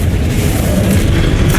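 A Confringo blasting spell in Hogwarts Legacy bursts into a loud, dense, rumbling explosion that fills the short moment without pause.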